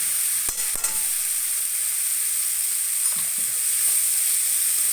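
Chopped dill greens drop into hot oil with turmeric and sizzle steadily, with a couple of brief clatters near the start and faint stirring scrapes later, and no voices.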